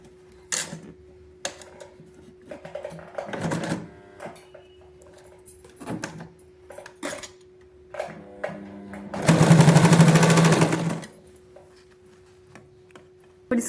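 A sewing machine stitches girls' shorts in long, wide stitches, one loud sustained run of stitching near the end, with softer ticks and handling clatter before it.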